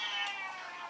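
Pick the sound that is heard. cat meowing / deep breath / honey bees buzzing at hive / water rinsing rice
cat meowing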